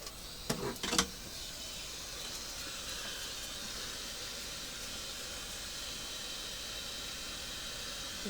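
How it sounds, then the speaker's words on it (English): A hot air blower runs steadily, heating a thermistor, giving a continuous broadband rushing hiss after a couple of brief knocks at the start. "we're going to bring this thermistor up to set point with my hot air blower"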